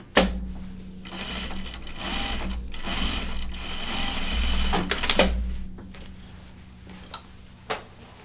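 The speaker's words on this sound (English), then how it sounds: "I'm gonna edge stitch this." A sewing machine edge stitches fabric for a pair of bibs, its motor running in a steady fast whir for several seconds before stopping, followed by a few isolated clicks and thumps.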